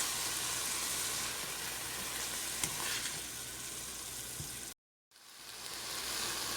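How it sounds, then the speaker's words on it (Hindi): Spring roll filling of leftover chicken with hot sauce frying and being stirred in a pan makes a continuous, rain-like sizzle with occasional scrapes. It cuts to a brief silence before resuming. "उसके बाद हम इसको अच्छी तरह से सौते कर लेंगे"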